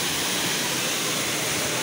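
Kanawan Waterfalls in Morong, Bataan roars as a steady, loud, broadband rush of falling water, constant and close with no voices.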